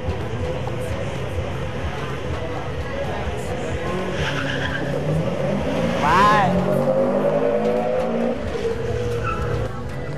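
Race car launching from the line and skidding, with engine revving and a brief rising tire squeal near the middle, loud and close. A commentator talks over it.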